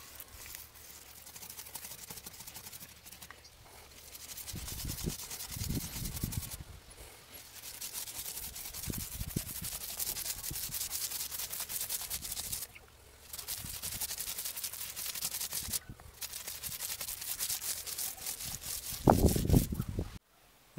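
A paint roller works over a surface that was stained with grease and dirt, producing a steady soft rasping hiss in repeated strokes with brief pauses between passes, close and fairly quiet.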